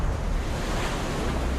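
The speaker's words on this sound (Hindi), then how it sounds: "तेज हवाओं के साथ समुद्र में ऊंची लहरें।" High seas whipped up by strong Cyclone Yaas winds make a loud, unbroken roar of crashing surf and wind buffeting the microphone throughout.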